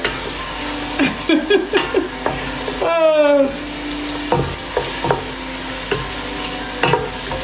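Cornmeal sautés in oil in a pan while a spoon stirs it now and then. A steady close sizzle runs throughout under scattered scraping taps, with a brief rising squeak in the middle.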